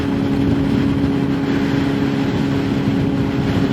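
A small 125cc motorbike engine droning steadily under open throttle while climbing a hill, a constant loud hum with wind rush and no break in the sound.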